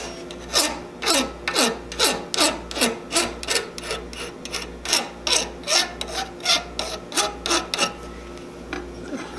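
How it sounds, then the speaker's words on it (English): A hand file rasps back and forth over high spots of solder on a tinned brass mount, roughly twenty even, rhythmic strokes heard close and alone. "I can safely file it without getting"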